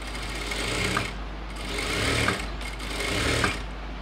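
Sewing machine stitching chudidhar top fabric, a close continuous motor whir with rapid needle chatter that swells and eases in bursts, with no voices over it.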